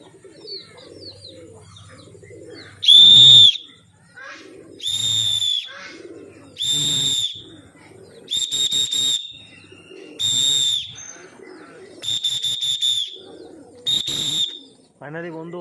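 A pigeon keeper whistles to call pigeons down in gusty wind: seven loud, sharp whistle blasts about every one and a half seconds, each standing out over quiet background.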